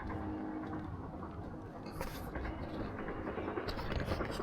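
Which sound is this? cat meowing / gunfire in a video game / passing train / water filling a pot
passing train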